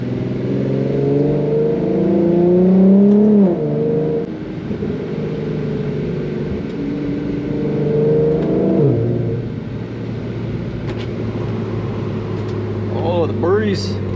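A tuned Infiniti Q50 with the 3.7 engine on E85 fuel and full-bolt-on exhaust revs through pulls while driving, the engine note rising and falling in long sweeps, loud and close, with a short burst of chirping near the end.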